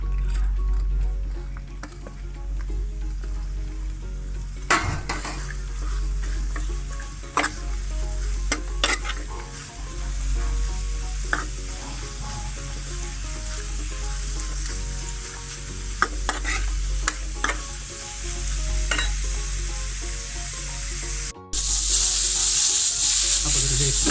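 Onion and carrot sizzle and fry in a pan for tin fish pathiri, a steady hiss with occasional scrapes and taps of a spoon stirring, continuous and close throughout.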